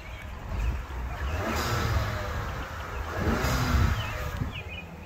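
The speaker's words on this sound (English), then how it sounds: "yeah, a little turbo blow off." A Ford Bronco Sport with an EcoBoost turbo engine revs and releases its blow-off valve in a few airy whooshes over a steady car engine drone, heard from close by with no talk.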